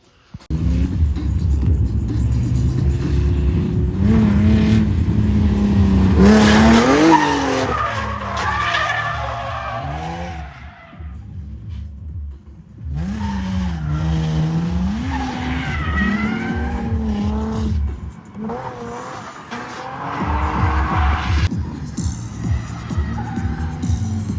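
A drift car revs and squeals its tires at a drift track, with long rising and falling engine howls and screeching skids that come in waves, loud and close, with brief quieter gaps.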